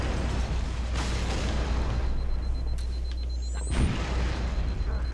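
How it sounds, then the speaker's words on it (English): An explosion in the video game Halo Reach, a deep booming burst with a brief crackling swell near the end, set against a constant loud low rumble of game noise. "did that explosion do damage to me through the glass?"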